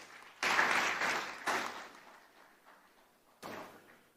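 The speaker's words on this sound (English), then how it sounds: "Can we give him a round of applause, please?" An audience at a climate change summit in Lagos claps in short bursts, with loud applause starting abruptly, fading, then a brief second round after a pause, heard in a reverberant hall.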